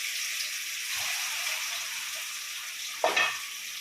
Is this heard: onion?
yes